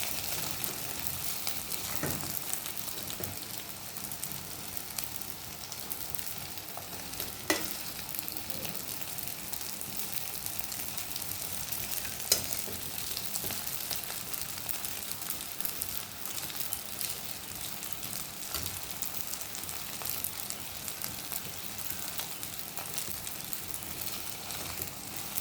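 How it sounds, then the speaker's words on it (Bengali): Pitha frying in hot oil, a steady, even sizzle and crackle at low level, continuing unbroken for the whole stretch with a few sharper pops and no talking. "এটা ভালো করে ভেজে নিলে পিঠাটা মুচমুচে হবে"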